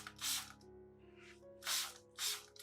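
A spray bottle mists water onto peace lily leaves in three short, sharp hissing bursts, close and fairly loud, with a faint hum between sprays.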